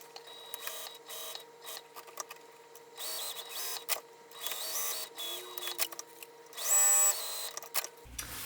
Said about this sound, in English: I'm going to sew it about 1/4 of an inch seam allowance.